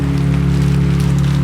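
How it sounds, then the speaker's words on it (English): Steady rain falls on a dumpster, a car and a parking lot, a dense continuous patter over a low, constant hum, with no voices. "it started to rain"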